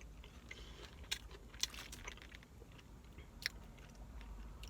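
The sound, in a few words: chewing an Impossible Whopper burger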